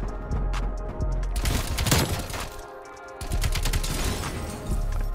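Rapid gunfire from the Call of Duty Black Ops Cold War video game, dense bursts of shots crackling nearly continuously, loud and close with a brief lull near the middle.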